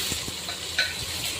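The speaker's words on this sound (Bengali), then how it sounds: "তেল দিয়ে এবারে আমি পেঁয়াজটাকে একটু ভালো করে ভেজে নেব।" Onion fries in oil in a wok, a steady close sizzle with occasional light scrapes and clinks of stirring. No voices.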